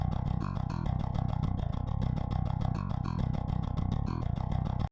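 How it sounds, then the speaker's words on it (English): A clean, unprocessed virtual bass programmed with Submission Audio Euro Bass 2 chugs out a fast, steady run of tightly picked low notes with no pauses, then cuts off abruptly at the end. "Which is just a nice clean bass programmed with Submission Audio Euro Bass 2."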